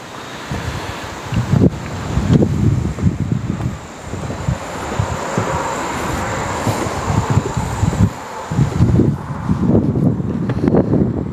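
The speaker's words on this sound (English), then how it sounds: "Wind's not much better today." Gusty outdoor wind buffets the microphone beside a covered porch at a property, a loud, rough roar that swells and dips in waves for the whole stretch with no talking.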